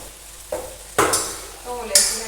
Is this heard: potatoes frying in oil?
yes